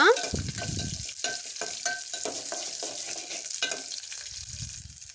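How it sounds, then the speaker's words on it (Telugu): Ingredients for pepper rasam fry on a low flame, with a soft sizzle under a rhythmic series of spoon scrapes and taps against the pan, close and moderately loud. "ఇలా స్టవ్ని సిమ్లో ఉంచి కాసేపు ఫ్రై అయ్యాక"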